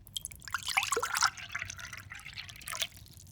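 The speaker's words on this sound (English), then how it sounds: "We add some of the water in a third cup." Water pours into a cup and fills it with bright, trickling splashes and drips, a close pour that keeps up steadily for a few seconds with no talk.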